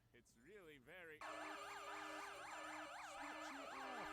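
A loud, close electronic siren wails in repeated rising-and-falling sweeps, preceded by a brief pitch-bending start-up, with a steady hum beneath and voices faintly under it.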